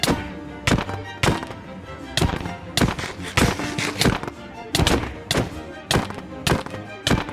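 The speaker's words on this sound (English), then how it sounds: "Orbital strike cannon fire!" Orbital strike cannon fired repeatedly in a Minecraft-style SMP game: a rapid series of loud, heavy thunks and booming impacts, roughly one or two per second, close and punchy with no talk over them.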